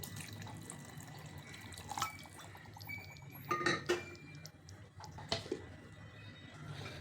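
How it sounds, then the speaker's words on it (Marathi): Water poured into a bowl of semolina and curd batter, wet splashing and trickling with light glassy clinks in short bursts, fairly close and quiet, with no talking. "पाणी घालायचे."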